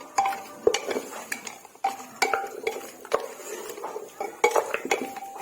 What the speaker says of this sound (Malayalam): ആവശ്യത്തിന് അച്ചാറും പൊടി മിക്സ് ആക്കുക. നന്നായിട്ട് മിക്സ് ചെയ്യാം.